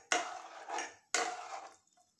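A spoon scraping and stirring mutton curry in a pot for a wedding-style Eruvadi dish, two distinct stirring strokes with clattering metal contact, close and fairly quiet.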